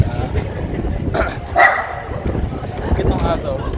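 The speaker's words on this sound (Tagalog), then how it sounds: "Yung aso, tinatahulan niya yung tinatahulan niya yung baka." A dog barks at a cow statue on a street in a Spanish east-coast city, a brief close burst of barking standing out over steady background noise and ongoing talking.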